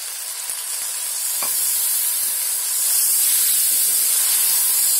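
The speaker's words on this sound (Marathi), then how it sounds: "आणि आता थोडा अजून आहे ना थोडा पाणी ओतते." Water poured into sizzling prawn masala of onion and tomato in an iron pan, setting off a loud, bright hiss of steam and spitting that swells and holds steady close by.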